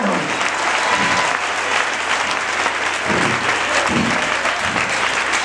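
A church congregation claps loudly and steadily for several seconds during a consecration week service, a dense sustained wash of applause from a large crowd.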